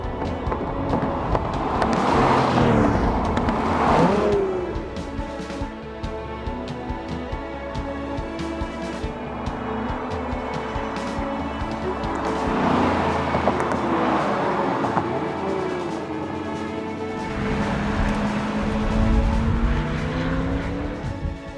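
A Lotus Emira and a C8 Corvette driving laps on a scenic road, engines revving and shifting up and down through gears, loud and close from inside the car, with swelling passes and occasional tire noise.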